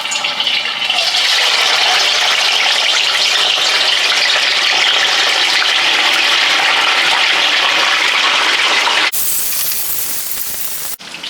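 Tofu pieces dropped into hot oil, a loud, continuous bubbling sizzle that runs steadily for several seconds before a sudden cut to a fainter, thinner frying hiss.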